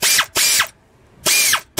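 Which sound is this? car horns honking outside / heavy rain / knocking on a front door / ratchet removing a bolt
ratchet removing a bolt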